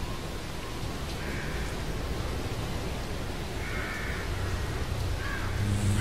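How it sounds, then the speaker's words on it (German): Raven cawing in The Evil Within, a few harsh caws at a distance over a steady, hissing ambient backdrop. "Da hinten ist ein dämlicher Rabe, den ich am liebsten erschießen möchte"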